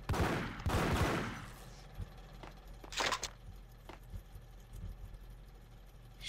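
Gunfire in the video game Max Payne: two dense, loud bursts of shots open, then a sharp single blast and scattered fainter shots and clicks follow, with no talk.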